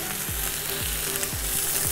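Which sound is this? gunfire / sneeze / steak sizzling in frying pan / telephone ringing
steak sizzling in frying pan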